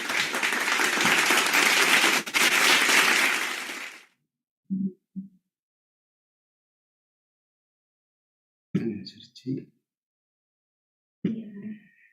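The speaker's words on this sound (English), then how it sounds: "Let's welcome them with our virtual clap." A virtual audience at an online club meeting claps in a loud, dense burst of applause lasting about four seconds, followed by silence broken by a few short spoken phrases.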